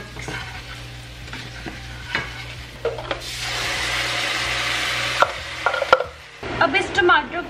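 Spiced tomato masala with coriander, cumin, red chilli, black pepper and salt is stirred in a hot pan, with scraping and knocks of the spoon over a strong sizzle that swells and fades, heard close.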